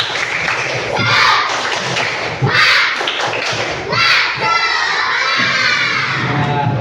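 A group of Indonesian schoolchildren shouts and claps through an energetic chant in a classroom, loud and close, with bursts of voices and thuds in a loose rhythm.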